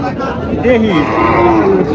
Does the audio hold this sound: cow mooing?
yes